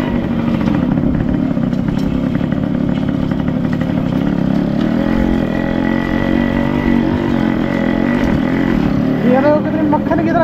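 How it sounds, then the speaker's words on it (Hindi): A Yamaha RX100 motorcycle engine and exhaust make a loud, continuous two-stroke drone while riding, close and rough, with some clatter and wind noise throughout. "छोटे बच्चे तो सोचते हैं सुपर बाइक जा रही है, इसकी साउंड भाई इतनी लाउड है"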